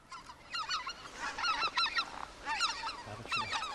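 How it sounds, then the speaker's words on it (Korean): A large flock of geese returns to Togyo Reservoir in Cheorwon, Gangwon Province, at dusk, with many overlapping honks repeating densely over a soft wash of background noise. "수만 마리의 기러기 떼가 먹이 활동을 끝내고 아침 비상만큼 힘찬 날갯짓을 하며 토교 저수지로 돌아온다"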